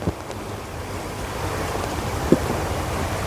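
Steady roar of sea surf at an estuary mouth with wind buffeting the microphone, continuous and fairly loud, with a brief thump near the start and another later.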